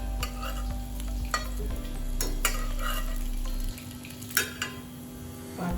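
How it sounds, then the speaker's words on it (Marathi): Moong dal and rice vadis shallow-frying in a little oil in a pan give a steady, close sizzle, punctuated by sharp scrapes and taps of a spatula, with no talking. "आणि ह्या वड्या आपल्या याच्यावरती भाजून घ्यायच्या"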